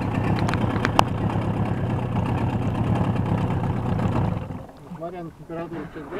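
A Suzuki DT 9.9 outboard motor on a small boat runs loud and close with a steady rough idle, then drops away midway, leaving quieter background and someone speaking.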